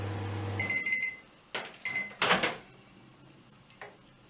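A microwave oven heating chocolate until it smokes: a low steady hum for the first half second, then a run of electronic beeps, followed by door clatter and a few sharp knocks.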